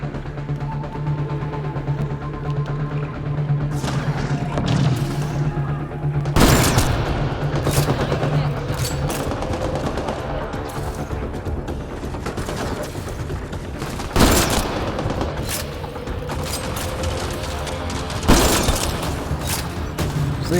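Rifle fire in the sci-fi shooter game Mass Effect during a cave clearing at a poacher camp, with sharp loud shots at irregular intervals over a constant dense battle din and hum.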